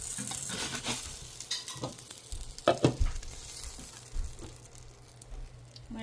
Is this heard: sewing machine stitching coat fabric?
no